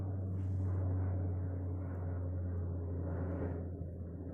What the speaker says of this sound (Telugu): ఎక్కడ చూడండి ఫ్రెండ్స్, ఫ్లైట్ పోతుంది